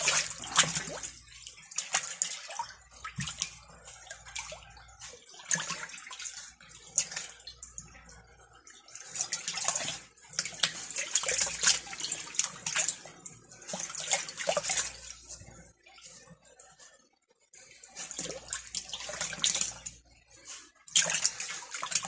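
A deer hide is squished in a neutralizing water bath, giving irregular sloshing, dripping and splashing water sounds in bursts with short pauses, close by and moderately loud.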